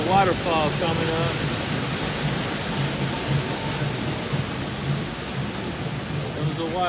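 Rushing water from a waterfall beside the Kali River Rapids raft ride at Animal Kingdom, a steady broadband roar that fills the whole stretch, with people's voices talking faintly over it.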